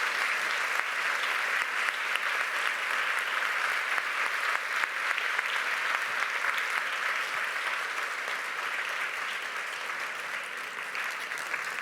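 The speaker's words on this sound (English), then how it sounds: "Let's just give our panel one more round of applause to send them on." A large audience at an awards ceremony gives the panel a sustained round of applause, dense and steady throughout with no voices rising above it.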